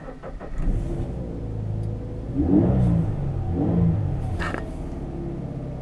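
A Toyota GT86 engine rumbles steadily at close range, with two swells of revving partway through and a low continuous drone beneath, no talking over it.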